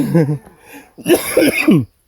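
A close, loud burst of coughing and throat clearing, a short hack followed by a harsher double cough.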